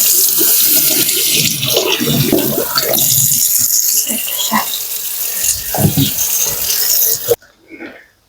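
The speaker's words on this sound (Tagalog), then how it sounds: "Hugasan na natin." Tap water running loudly and steadily as food is rinsed under it in a kitchen sink, with splashing and handling sounds throughout before the flow cuts off near the end.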